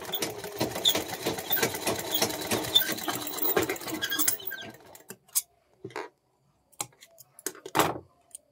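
A sewing machine stitches a fabric corner in a fast, steady rhythmic chatter for about four seconds, then stops, followed by scattered light clicks and handling taps from cloth and parts.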